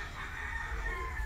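A chicken near a home clucks and crows softly over a low background rumble, brief and moderately faint.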